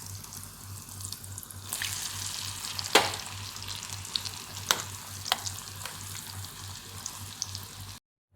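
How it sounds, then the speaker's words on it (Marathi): Coriander fritters (kothimbir vadi) deep frying in oil, a quiet continuous sizzle with bubbling and a few sharper crackles and pops, near and without speech, ending abruptly. "आता बुडबुडे यायचे कमी झाले आता मी काढून घेते अशा तळल्यात ना अशा मी सगळ्या वड्या तळून घेते"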